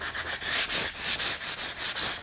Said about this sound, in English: I'm gonna go and do some heavier distressing all over, because I really want it to look extra worn.